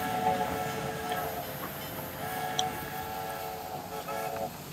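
Train at Liverpool train station, rumbling and clanking with sustained horn-like tones and a sharp metallic squeal, over station background noise.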